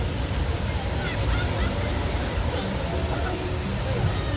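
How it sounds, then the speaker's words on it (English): Theme park boat ride throws up a big water splash, a broad rushing, spraying roar of water and wind that stays loud and continuous, with voices faintly mixed in. "Didn't know it was that big a splash"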